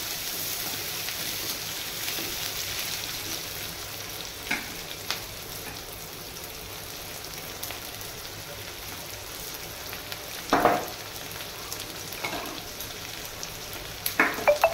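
Onion pieces fry in a pan, giving a steady, soft, even sizzle that runs throughout, broken by a few brief stirring scrapes and clinks, the loudest near the middle and at the very end.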